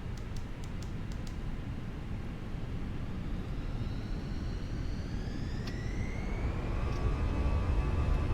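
Airliner jet engines spool up to takeoff thrust in a flight simulator for a short-runway departure from Birmingham to Gibraltar: a steady, loud broadband roar with whining tones rising in pitch throughout.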